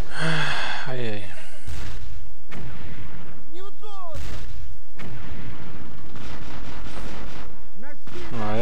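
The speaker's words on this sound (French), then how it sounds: "utilisation de mitrailleuse maintenant" Machine gun fire and explosive bursts in the wargame Battle Academy 2 crackle in loud repeated volleys, mixed with game effects and brief voice sounds.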